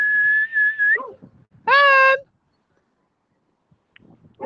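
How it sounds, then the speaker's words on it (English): A sustained high human whistle outdoors among trees on an icy, breezy walk, then a brief pause and a second, richer whistled tone, both loud and close, with faint rustling afterward. "Excuse my whistling."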